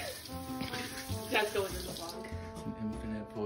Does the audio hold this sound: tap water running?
yes